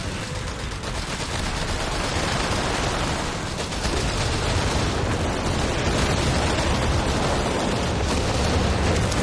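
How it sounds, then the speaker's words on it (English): An incendiary artillery barrage in the strategy game Company of Heroes 3, dense continuous blasts, crackling fire and gunfire layered into a loud, unbroken battlefield roar with no voices. "The incendiary barrage there doesn't do too much."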